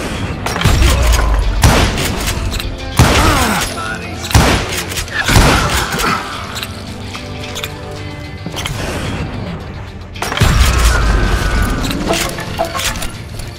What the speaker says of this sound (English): Watch where you're shooting.